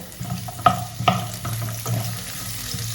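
Chopped garlic, curry leaves and onion sautéing in a pan, with a steady sizzle punctuated by a couple of sharp spoon taps and soft stirring scrapes, no voices.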